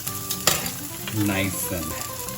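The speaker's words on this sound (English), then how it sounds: "we're gonna add in 2 pounds of lean ground beef" Two pounds of 92% lean ground beef frying with onion in a hot pan, a sharp clatter as the meat drops in, then steady close sizzling with stirring scrapes.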